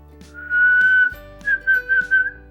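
A person whistles clearly and close up: one long held note, then a series of short rising and falling notes.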